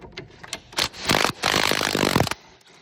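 An impact wrench buzzes out tight, Loctite-coated bolts on the right rear axle of a 2013 Chrysler 300, giving short hammering bursts followed by longer rattling runs, loud and close.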